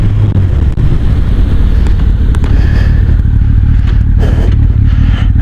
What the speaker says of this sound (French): On va faire un test de freinage